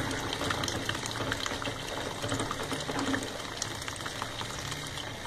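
Tap water pours steadily into a Colormaq Pioneer washing tub with powdered detergent inside, a continuous close rushing gush with no voices.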